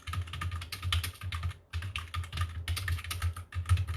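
Fingers type on a computer keyboard in quick, uneven bursts of soft clicking keystrokes with a short pause in between, heard close and fairly quiet.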